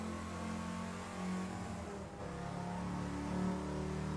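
A car engine in the Test Drive Unlimited 2 racing game driving through a tunnel, a steady droning hum with slight rises in revs, fairly quiet and continuous with no talk.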